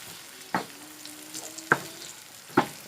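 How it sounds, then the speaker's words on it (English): Ackee and saltfish sautéing in a pan give a faint low sizzle, broken by three sharp clinks or taps of a utensil spaced about a second apart, with no voices. "I'm just going to let this sit and saute for at least 2 minutes"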